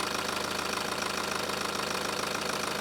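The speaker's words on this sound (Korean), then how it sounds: "당연히 디젤이기 때문에 휘발유보다는 어느 정도 소음이 있지만 디젤치고는 조용하다라고 느껴지고요" A BMW inline four-cylinder diesel engine idles with the hood open, giving a steady close-up clatter with a fast even rhythmic pulse, moderately loud and unchanging throughout, with no voices.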